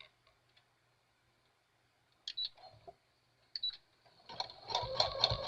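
Sewing machine stitching a zigzag along curved lines at slow speed, starting with a few short, separate bursts and then settling into a steady, close, rapid mechanical chatter.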